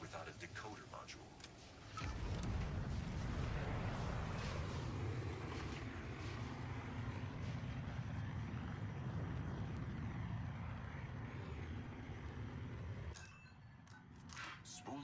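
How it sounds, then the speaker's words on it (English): A spaceship's hyperdrive spools up in the Star Wars Outlaws video game. A loud, broad roar starts abruptly, surges and holds steady for about eleven seconds, then cuts off. "Spooling the hyperdrive."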